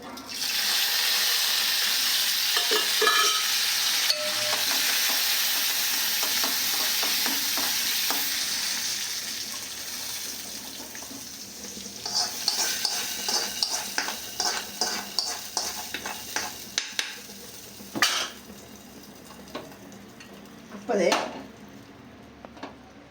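Mustard seeds, curry leaves and dried chillies hit hot oil in a well-heated pan with a loud, steady sizzle. Sharp crackles, pops and clinks of metal cookware follow, all close by.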